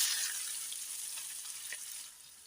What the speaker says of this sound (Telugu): ఇప్పుడు ఉల్లిపాయ ముక్కలు వేసుకుంటున్నాను.